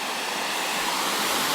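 Water flowing over a small rock dam, a dense, steady rushing roar with no pauses, close and fairly loud throughout.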